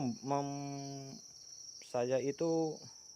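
Farmed crickets give a continuous high, thin trill that runs steadily underneath, while a voice speaks over it in short phrases.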